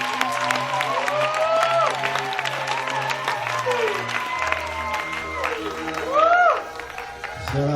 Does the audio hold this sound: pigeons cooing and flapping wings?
no